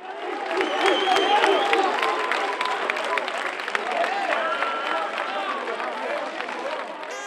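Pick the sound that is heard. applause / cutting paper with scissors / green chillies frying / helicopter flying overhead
applause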